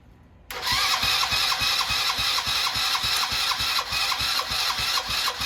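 A small 70cc Chinese quad engine fires up after a moment of quiet and runs close by with a loud, rough, rhythmic putter that stays steady to the end.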